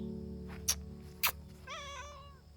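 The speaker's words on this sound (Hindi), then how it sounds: "कितनी प्यारी कैट मिल गई" A friendly cat met on a forest trip near Corbett lets out a few rising, wavering meows late on, close and clear, after two short sharp noises over a low steady rumble.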